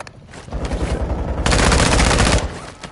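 Rapid automatic gunfire rattles in a video game firefight, a burst building into a dense sustained volley before cutting off, loud and close with no talk over it.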